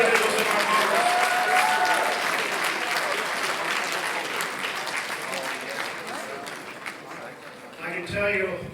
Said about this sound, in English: Have another round of applause for those two individuals in our Congress.